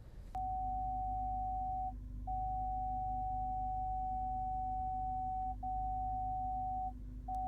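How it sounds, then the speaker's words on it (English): A 2017 MG GS SUV's faulty rear parking sensor, stuck on with nothing behind the car, sounds a steady, continuous mid-high electronic tone almost unbroken, with a few brief gaps, over a low hum. "the rear parking sensor that remained stuck on even when there was nothing behind the car"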